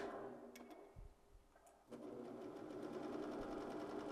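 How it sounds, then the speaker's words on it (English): Sewing machine stitching stretch fabric for a dress while trimming the seam allowance, starting with quieter intermittent sounds, then running in a steady fast mechanical whir of needle strokes that continues to the end. "This dress has a 5/8 seam allowance, so I'm cutting off the seam allowance as I sew."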